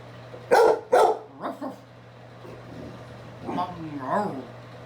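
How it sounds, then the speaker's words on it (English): A dog barks twice sharply nearby, then a person speaks softly in a low voice as a faint hum continues underneath. "What are you barking at?"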